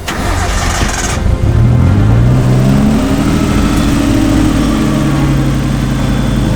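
An old Nissan Skyline R32 barn-find engine turns over and settles into a loud, steady running idle, a low rough rumble with a faint rhythmic knock throughout.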